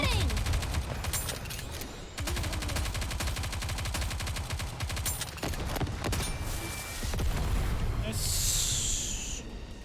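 Rapid automatic gunfire from the Nikke: Goddess of Victory shooter game, dense bursts running through most of the stretch alongside game effects and music, with a player's voice talking over it.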